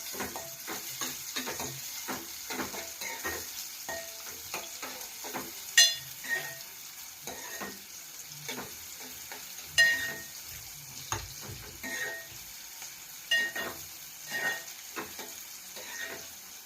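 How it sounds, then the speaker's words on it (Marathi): Chopped onion and tomato sautéing in a pan for thick misal, a soft intermittent sizzle broken by scrapes and stirring clicks at close range, with no voices. "त्याच्यामध्ये कांदा, टोमॅटो, चांगल्या प्रमाणात परतून घेऊया."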